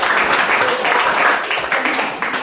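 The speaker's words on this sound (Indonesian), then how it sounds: "Tepuk tangan dulu untuk" Applause from a classroom audience during a teacher's performance exam session, a steady dense patter of clapping lasting a couple of seconds, moderately close and fairly loud, with no voices over it.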